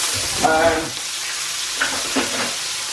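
Rump steak frying in butter in a pan, a steady close sizzle and hiss with a few louder spits and crackles.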